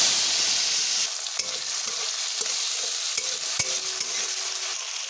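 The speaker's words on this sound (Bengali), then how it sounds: "এবারে দিয়ে দিচ্ছি 1 চামচ কালো জিরে, দিয়ে দিচ্ছি টমেটো কুচি" Chopped tomato and nigella seeds fry in hot oil in a wok with a dried red chilli, giving a steady sizzle broken by several sharp scraping knocks as the mixture is stirred.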